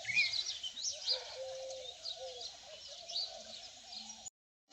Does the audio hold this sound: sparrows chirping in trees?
yes